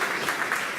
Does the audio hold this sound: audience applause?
yes